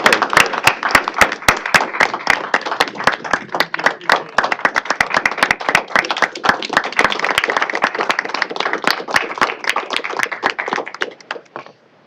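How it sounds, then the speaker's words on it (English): Applause during a state board of education meeting, where a smaller group's distinct, sharp individual claps ring out loud and close for about twelve seconds before stopping abruptly. "give him a big round of applause for his service."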